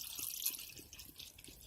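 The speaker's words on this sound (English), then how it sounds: "I'm going to pour some of the juice into" Fruit juice poured from a bottle into a cup, a soft close trickle with faint dripping and splashing, quiet and alone.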